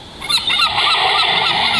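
Seagulls give loud, harsh honking calls up close, overlapping in a continuous noisy chorus with no talking.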